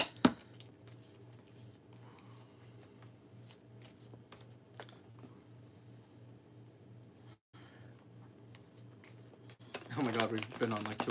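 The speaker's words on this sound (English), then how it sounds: "I'm going to give these a good shuffle." Tarot cards being shuffled by hand, soft riffling and sliding under a low hum, with quiet handling noises and a louder burst of shuffling near the end.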